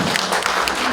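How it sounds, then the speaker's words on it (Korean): A congregation clapping in a church conference hall, a brief burst of dense, fairly loud applause filling the room. "박수로 하나님께 영광 돌립니다"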